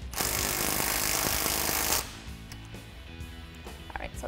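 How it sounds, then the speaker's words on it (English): A 15mm deep socket tightens a nut on a Jeep Wrangler JK steering part, giving about two seconds of loud, dense rattling from a power tool, then quieter metallic clinks and handling noise. "you're going to use the same 15mm deep socket. Just tighten that down"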